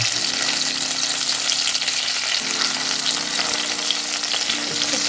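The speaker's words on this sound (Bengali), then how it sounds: "এগুলো হালকা করে ভেজে নেব।" Pieces of bhetki fish fry in hot oil, giving a steady, dense sizzle throughout that stays close and even, with faint stirring and no voices.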